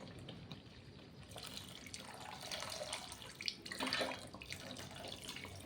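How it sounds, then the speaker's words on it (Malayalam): Second coconut milk pours into a pot of traditional lentil payasam, giving a soft, steady liquid trickle that swells and fades, fairly faint and close, with no talking. "2ാം പാൽ ഒഴിച്ചു കൊടുക്കാം."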